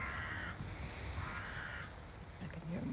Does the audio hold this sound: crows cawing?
yes